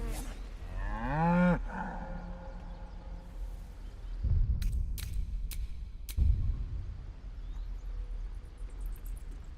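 A cow moos in Baldur's Gate 3, one loud, drawn-out call in the first second and a half, followed by a few short sharp clicks and thumps of game action against a low background.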